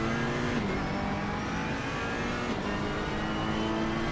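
Onboard engine of a Ferrari race car lapping the Hungaroring in Assetto Corsa Competizione, a loud sustained engine drone with tyre and wind noise and shifting pitch through a corner.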